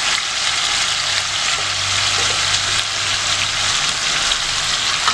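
Unpeeled potatoes, cut in pieces, cook in a pot on the stove, giving a steady, dense bubbling and hissing with a faint low hum beneath it and no talking.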